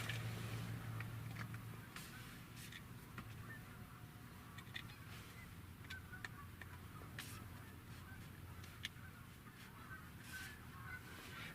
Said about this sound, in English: There are quite a few Canada geese here, by the way, and you can hear them.